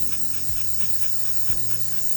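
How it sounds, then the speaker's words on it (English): Silicone spray hissing onto the seatbelt mechanism of a Ford Falcon AU project car, a continuous close spray with a few soft knocks and rubs, no talk. "spray a bit of silicone spray on the belt, in the mechanism a bit, get it all in there, get it lathered up."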